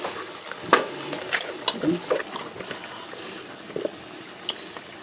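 Ribbon pakkoda dough frying in hot oil for a Deepavali snack, a quiet bubbling sizzle with occasional ladle clinks and stirring, and a voice faintly present.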